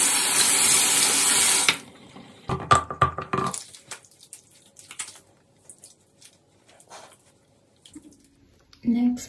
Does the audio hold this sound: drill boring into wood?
no